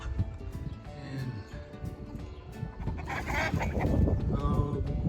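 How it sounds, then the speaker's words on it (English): Chickens on a farm by a rebuilt barn squawk and honk in excited bursts while being chased by a dog, the clucking growing louder and busier toward the end over a rustling background. "Hear the chickens"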